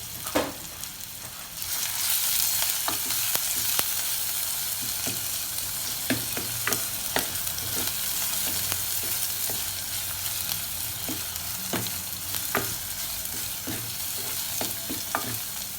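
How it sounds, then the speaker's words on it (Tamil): Chopped onions sauté lightly in a pan for a South Indian arai keerai masiyal: a steady broadband sizzle starts after a brief pause, punctuated by frequent sharp scrapes and taps of a spoon stirring, close and fairly loud, with no talking. "வெங்காயம் மூணையும் சேர்த்துக்கிறோம் சேர்த்து இதை லேசாக வதக்கிக்கிறோம்"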